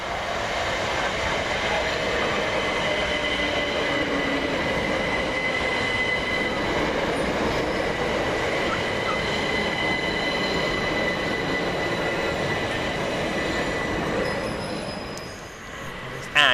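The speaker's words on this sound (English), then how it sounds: "Penultimate arrival now is 377124 with the 1326 Southern service from Brighton to Littlehampton" A Southern Class 377 electric train pulls into Southwick station on the Brighton to Littlehampton service, giving a steady loud rumble of wheels and traction with high squealing tones that holds for most of the clip before easing off near the end.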